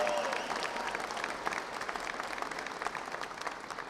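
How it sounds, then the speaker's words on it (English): Sustained crowd applause at an outdoor rally for Second Amendment gun rights, steady dense clapping from a large gathering that stays loud throughout with a few sharper claps standing out near the end. "two big rounds of applause"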